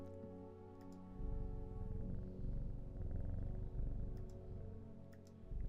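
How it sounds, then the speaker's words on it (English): A cat purrs steadily in the Strange Horticulture video game, a low continuous rumble that swells in after a brief pause and holds close and fairly loud, with faint clicks over it. "Hellebore is a good kitty."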